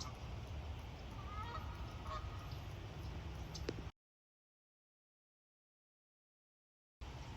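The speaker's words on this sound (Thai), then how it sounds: "น้องเป็ดมาชุมนุมกันเต็มเลยค่ะ ทั้งน้องนกแล้วก็เป็ดนะคะ" Ducks honk a few times among gathered birds outdoors in cold weather against a steady outdoor rumble, then the sound cuts to silence before the background briefly returns.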